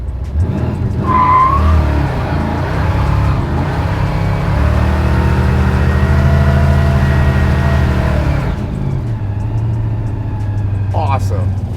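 Blown big-block 1966 Chevelle SS pro-street muscle car with about 850 hp doing a line-lock burnout, its loud, rough engine roaring steadily for several seconds with tire noise, then dropping off, and a short exchange of talk near the end.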